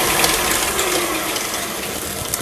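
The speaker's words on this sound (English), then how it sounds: "I'm using my paddle attachment, and I'm just going to beat this until it's light and fluffy" A stand mixer with a paddle attachment beats softened butter, a loud continuous whirring motor with churning, slapping mechanical texture, steady and close throughout.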